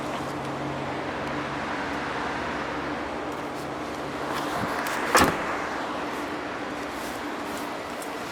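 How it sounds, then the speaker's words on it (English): A single sharp click from the rear-seat fold-down lever inside a 2012 Volkswagen Passat 1.8 TSI Sport, standing out briefly over a low, steady cabin hum. "You can fold down the rear seats either by pulling on this lever"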